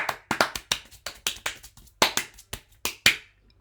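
A person claps their hands together in a loose, uneven rhythm, about a dozen sharp, close claps with brief gaps between them and no other sound.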